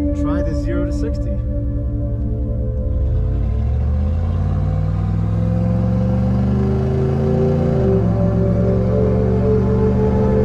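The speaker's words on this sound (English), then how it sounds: "I've always been curious how fast a 69 Lincoln with one muffler can go 0 to 60." A 1969 Lincoln Continental running on one muffler pulls from a standstill, its engine rumble climbing in pitch through the gears. A brief voice is heard at the start and the drone is loud and close from inside the car.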